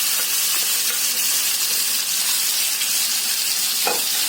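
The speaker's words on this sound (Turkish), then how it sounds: "Şimdi ısıttığımız tenceremizin içerisine tavuklarımızı ilave ediyoruz." Steady, loud sizzling of chicken frying in a hot pot, a continuous crackling hiss with occasional sharper pops, no voices.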